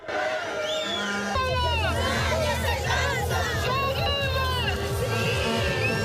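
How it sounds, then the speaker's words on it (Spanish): Indigenous protesters on a national strike march through Quito, a dense crowd shouting slogans led by women in the front row, with loud overlapping voices, rising cries and whistles heard close and continuous. "las mujeres en primera fila y gritando consignas dieron la orden para avanzar"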